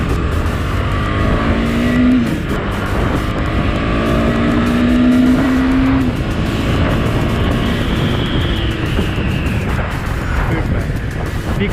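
A Husqvarna motorcycle accelerates hard on a test ride, its engine note climbing in loud sustained pulls through the gears, close and dominant for the whole stretch with steady wind noise.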